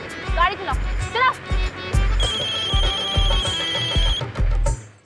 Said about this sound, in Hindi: बाबू भैया का फोन आ रहा है।